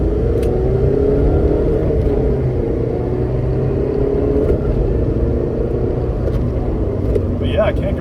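A 2021 Mazda MX-5 Miata RF accelerates with a continuous engine rumble and rising drone heard from inside the cabin, loud and steady throughout, with a few faint clicks.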